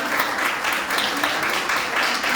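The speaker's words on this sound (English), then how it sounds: "let's give a round of applause" An audience applauds panel speakers at a morning safety panel, a dense, even wash of clapping hands that holds steady from start to finish.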